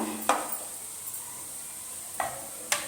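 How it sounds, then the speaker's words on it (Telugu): A spoon scrapes and stirs potato masala filling for masala dosa in a pan, a few sharp clinks against the metal over a faint, steady sizzle. "ఆలు వేసుకున్నాక అంతటిని ఇలా ఒకసారి తిప్పుకున్నానండి"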